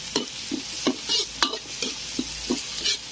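Ingredients for tinolang manok sautéing in a pan lined with banana leaves, with rhythmic spatula scrapes and stirs about every half second over a soft, steady sizzle, close and moderately loud with no talking.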